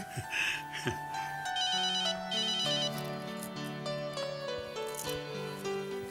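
A phone ringtone plays a bright electronic melody with repeating chiming notes, steady and fairly loud, with no talking over it.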